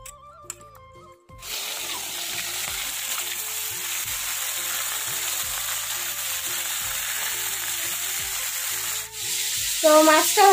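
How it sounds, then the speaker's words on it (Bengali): Fish frying in hot oil in a wok, a loud, steady sizzle that starts abruptly after a quiet moment and continues close and unbroken, with music playing underneath. "তো মাছটা ভাজা বসিয়ে দিলাম"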